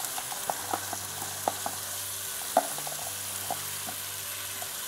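Vegetables for paneer bhurji sizzle steadily in a pan, with a few sharp clicks of a utensil stirring them scattered across the constant frying hiss.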